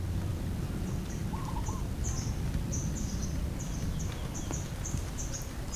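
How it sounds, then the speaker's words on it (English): Birds sing near Dumaluan beach in Panglao, Bohol, with short, high chirps and trills repeating every second or so over a steady outdoor hiss. The birds sound moderately distant and fairly faint against the constant background. "You can hear only the birds."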